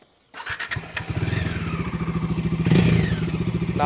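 A motorcycle engine starts after a brief silence and settles into a steady, throbbing idle, close and loud, with a slight rise in revs near the end.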